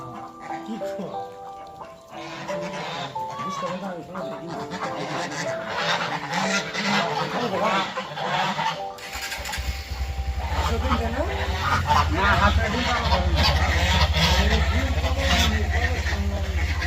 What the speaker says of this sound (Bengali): হাঁস রাজহাঁস পঞ্চাশটা হাঁস দিয়ে শুরু করেছে এরা